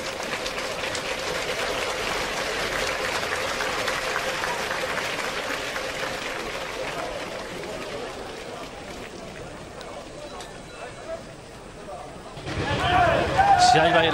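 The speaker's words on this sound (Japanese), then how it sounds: "そしてスタンドから大きな拍手が沸き起こります。" Applause rises from the stands of a baseball stadium before a high school championship game between Chiben Wakayama and Ichi Wakayama, a broad, sustained crowd clapping that slowly thins. A voice speaks briefly near the end.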